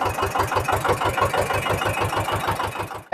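An Eicher 312 tractor engine running on an early morning ride, a steady close diesel chug with even, rapid firing pulses, ending in a brief sharp cut.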